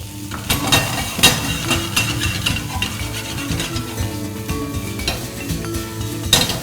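Crab meat stir-fried over high heat in a pan, with steady sizzling, scraping and clanking of a utensil against the pan, and a few louder metallic knocks throughout.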